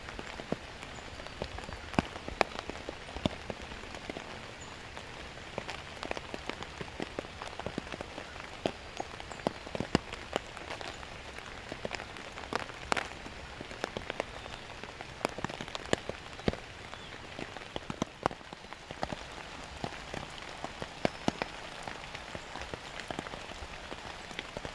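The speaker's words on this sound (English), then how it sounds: "When this rain slacks up, clears out, it's going to be on." Rain falls steadily during a whitetail deer bow hunt, a faint, continuous patter of drops striking surfaces with scattered sharper taps and no voices over it.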